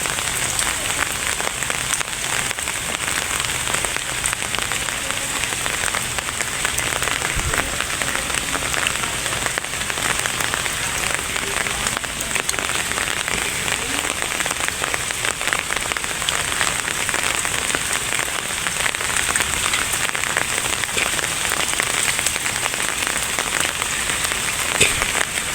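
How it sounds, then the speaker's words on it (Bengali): Steady rain falls over a flooded, water-filled fishing spot, a dense, even hiss of drops that runs unbroken and fairly loud throughout, with no voices. "বৃষ্টি মনে হয় অনেক দিন ধরে বৃষ্টি পড়তেছে"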